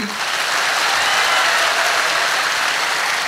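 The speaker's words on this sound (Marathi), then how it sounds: "जोरदार टाळ्या होत्या आपल्या मायबापाच्या स्वप्नासाठी" A crowd applauds strongly at Vitthal Kangane's comedic public speech in Maharashtra, a thick, continuous wash of many hands clapping at even loudness from start to end.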